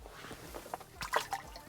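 A sauger caught ice fishing on the Mississippi River slips back into the water with a few close, light splashes and drips, a quick burst of sloshing near the end.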